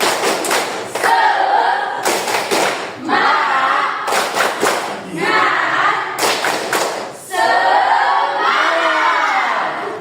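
A standing group performs the tepuk semangat spirit clap, with tight bursts of rapid rhythmic clapping alternating with loud shouting and cheering voices, repeated several times.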